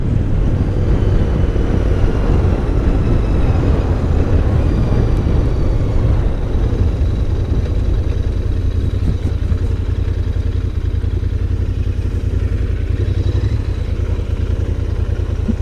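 Royal Enfield Interceptor 650 twin-cylinder motorcycle ridden at around 50–55 and just under 3,000 RPM, a loud, steady engine drone with wind rush throughout, holding an even pitch and no talking.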